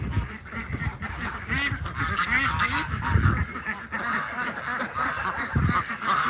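A full-grown white duck bought from Tractor Supply quacking loudly and continuously, with goose-like honking calls from nearby fowl layered over busy outdoor noise.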